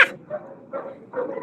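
A puppy barks in three short bursts, close and fairly loud, with brief yips and whimpering between them and no talk over it.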